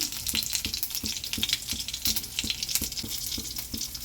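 Five-spice (panch phoron) seeds sizzle and pop in hot oil in a home kitchen, a steady bright crackle with regular quick spatters, close and moderately loud, no talk.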